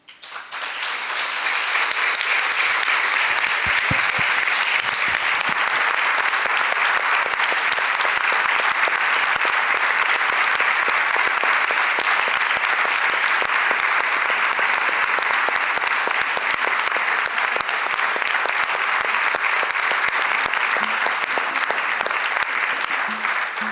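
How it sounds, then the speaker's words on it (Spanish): A large audience at a book presentation in Buenos Aires gives long, sustained applause, a loud and even roar of clapping that continues without pause for over twenty seconds. "este aplauso significa un final"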